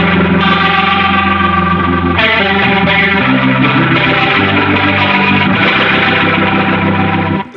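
A guitar played through a Boss RT-2 Rotary Ensemble pedal cranked into overdrive gives loud, dense, distorted chords with a swirling rotary-speaker wobble, sustained without pause.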